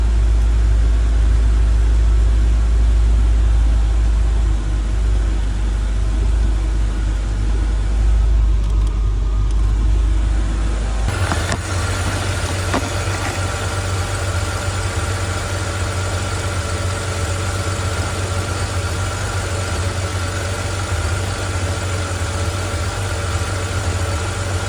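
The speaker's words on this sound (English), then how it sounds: "I'll even turn on the engine and we'll hear what it sounds like" A BMW E90 car engine idles steadily with a low, constant hum; partway through the tone shifts as the engine note changes, then continues droning evenly. The car has a suspected clutch problem.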